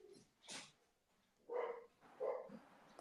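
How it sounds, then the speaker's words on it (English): Several bursts of household dogs barking, a few separated yelps and barks at close range, with no talking over them. "Oh, sorry, there go my dogs."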